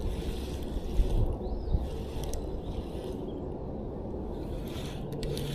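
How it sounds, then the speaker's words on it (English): Steady wind rushes over a small lake, a broad continuous roar with light buffeting and occasional faint creaks and knocks from the boat. "Wind's kicking a little bit."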